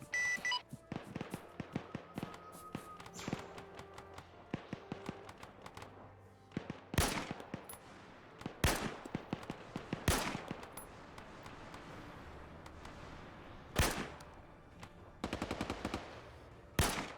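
A chain gun fires in Arma 3 during a section run near an outpost, with sharp loud bursts spread over the scene between quieter stretches of background game noise and radio-like beeps.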